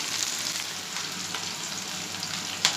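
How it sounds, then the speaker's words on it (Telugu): Chana dal and urad dal fry in hot oil, giving a steady, even sizzle throughout with a small clink near the end; no voices. "శనగపప్పు మినపప్పు వేయాలి"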